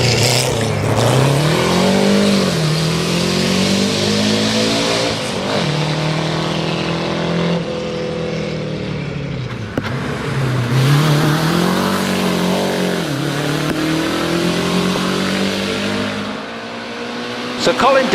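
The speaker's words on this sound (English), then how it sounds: "and then Darren Archambaud in the Austin 7 Sports is on the hill" An Austin 7 Sports car races up the hill at a historic hillclimb, its engine loud and close, revving repeatedly through gear changes and rising in pitch as it accelerates, with no talk over it.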